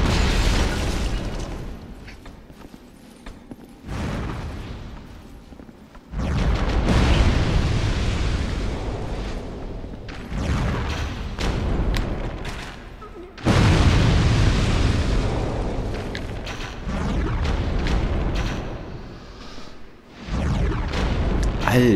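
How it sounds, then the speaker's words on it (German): Dark Souls 2 enemies explode even after dying, booming repeatedly in heavy, loud bursts separated by brief quiet gaps, with rumbling and crackling debris after each blast. "Die explodieren auch noch, wenn die tot sind."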